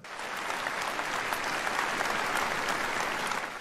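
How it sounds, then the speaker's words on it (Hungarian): A concert audience applauds teachers at the Budapest New Year's Concert, steady, dense clapping that holds for several seconds, loud and close, with no talking over it. "Köszöntsük egy nagy tapssal őket!"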